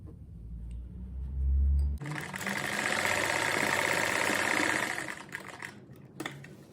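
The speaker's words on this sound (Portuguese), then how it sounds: "Aqui eu vou passar só uma costura" A sewing machine runs a steady, fast stitching burst for about three seconds while sewing a simple fabric cat-shaped door stopper, starting after a short low hum and stopping with a brief clack.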